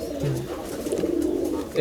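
Mussaldom pigeons coo in a loft, with a few soft, low coos close by under a person speaking.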